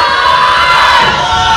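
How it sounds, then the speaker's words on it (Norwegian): An eager crowd cheers and shouts at a Super Smash Bros. Melee tournament, a loud, dense and continuous roar of many voices close by. "Veldig ivrig publikum"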